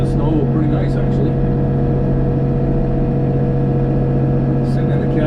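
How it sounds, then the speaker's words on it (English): A snow blower engine running steadily at 1750 RPM while throwing snow, a loud continuous drone with strong low harmonics, heard from inside a warm cab with no talk. "1750 RPM, and it's throwing the snow pretty nice actually"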